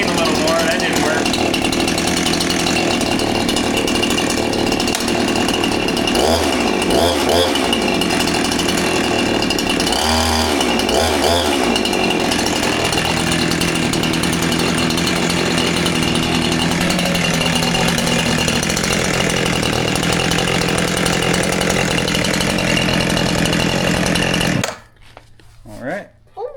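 A Husqvarna chainsaw, repaired after being dead, runs loud and steady close by for about 25 seconds, with the engine revving up twice along the way before it cuts off abruptly.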